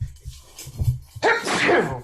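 A single sneeze bursts out loud and close near the end, after a short quiet intake of breath, with no talk around it.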